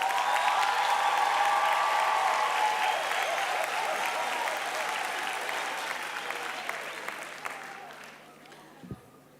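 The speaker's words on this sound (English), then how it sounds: "Can we give those graduates a round of applause" Sustained applause from the audience at a False Bay TVET College graduation and diploma ceremony, a dense steady wash of clapping that gradually thins and fades out toward the end.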